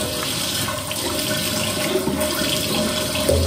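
Water runs steadily from a tap while face makeup is washed off, a continuous close hiss and splash holding at an even level throughout the short stretch, with no talk.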